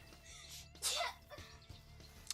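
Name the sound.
sneeze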